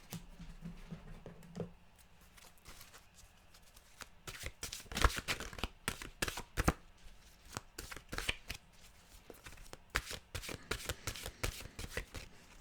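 A deck of mantra cards is shuffled close up in a quiet room, with a steady run of soft, papery riffling and slapping cards that picks up in density partway through.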